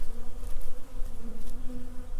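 Honeybees in a struggling, underfed hive buzz with a dense, steady hum and a few louder passes close by, without any voices.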